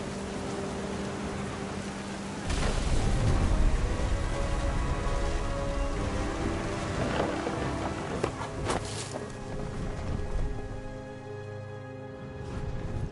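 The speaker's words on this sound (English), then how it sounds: "The thunder sounded much too close and full of angry power." Steady rain pours in a thunderstorm in What Remains of Edith Finch, a dense close hiss with a few sharper splashes and gusts of wind. No clear thunder comes through.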